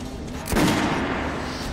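A single sharp gunshot cracks in a shooting range in the video game Metro: Last Light, a brief loud burst with a short ringing tail.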